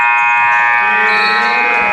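Loud, sustained buzzer sounding at the end of a half in a college basketball game between Wheaton and Lake Forest, a harsh steady tone ringing over crowd noise.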